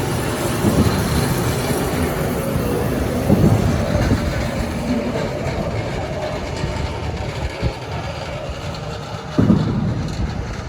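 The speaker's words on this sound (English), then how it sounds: "Got a high rail truck coming through." A high rail truck rumbles steadily along the railway tracks nearby, with periodic clanks and thumps as wheels pass rail joints.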